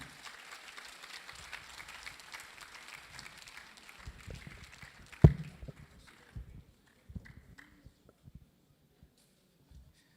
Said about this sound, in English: another big round of applause for this wonderful presentation today